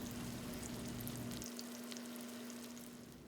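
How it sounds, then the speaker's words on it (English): Vegetable lumpia frying on a flat top grill. A dense, even sizzle holds steady throughout with a faint underlying hum, and the lower rumble drops away halfway through. "now we're just frying until golden brown"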